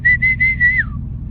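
A person whistles at deer outdoors: four short, clear, steady tones in quick succession, the last one gliding downward, loud and close, with low outdoor rumble beneath and no talking.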